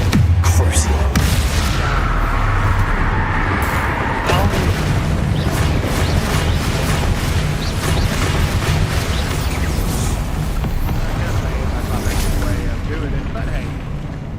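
Loud, dense combat in the Hogwarts Legacy game: repeated booming spell blasts and bursts over a constant rumbling din, with someone shouting and talking throughout.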